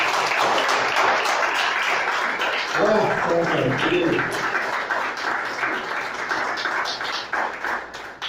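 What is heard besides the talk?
congregation applauding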